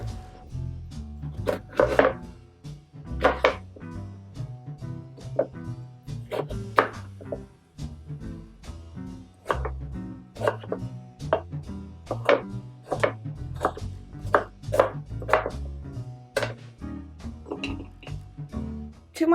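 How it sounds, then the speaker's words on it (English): Knife chopping peeled pears into small pieces on a cutting board, a run of crisp, close, irregular thuds with brief pauses between bursts. "I have to peel these pears and cut them in small pieces"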